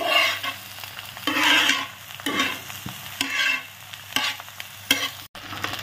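Chowmein is stir-fried with pre-fried vegetables in a pan, giving repeated loud scraping and sizzling bursts in a steady tossing rhythm, with no talking.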